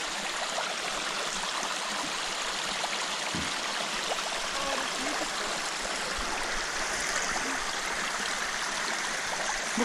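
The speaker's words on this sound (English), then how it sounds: "there's some nice water running here" A small river runs over rocks in dry country, a steady, full rushing and gurgling of water that fills the whole stretch with no voices.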